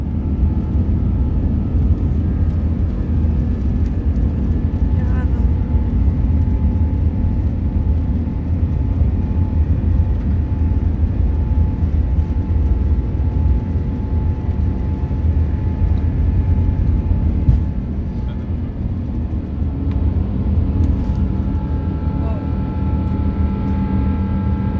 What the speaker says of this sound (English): As you can hear during the takeoff and the whole flight, the noise level is quite low.